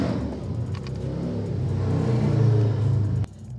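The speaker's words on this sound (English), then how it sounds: "Always gotta make noise with their motorcycle." A neighbour's motorcycle engine revs loud and close, rising into a rumbling roar before cutting off abruptly near the end.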